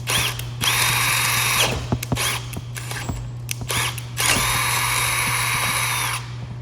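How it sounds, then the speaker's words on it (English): A power drill whirs loudly in two long bursts with short pauses and light clicks between, drilling out metal on an AMG V8 engine, a steady hum running underneath throughout. "So we're gonna drill this thing out first, and using their supplied drill bit"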